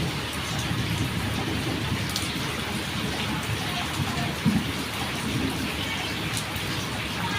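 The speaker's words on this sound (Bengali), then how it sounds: "তো ভাবলাম বৃষ্টিটা আপনাদেরও একটু দেখাই।" Heavy rain pours over a village on a wet morning, a dense, steady hiss of drops striking the ground that holds evenly loud throughout without a break.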